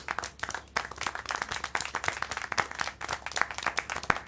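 Applause from a small crowd in a video game, rapid uneven clapping that carries on steadily throughout without any voices.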